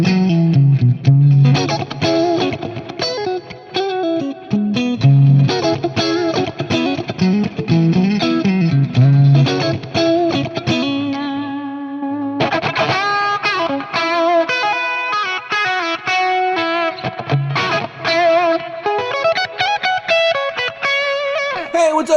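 Distorted electric guitar played through a HeadRush unit's NAM A2 amp model, with loud, dense riffs and sustained chords continuing throughout with effects and no talking.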